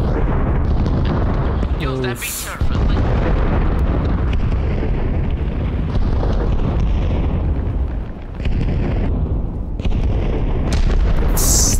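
Mortar rounds land with heavy booms and rumbling blasts in an Arma Reforger beach assault, a dense, continuous barrage with bursts and pops. A voice briefly calls out partway through.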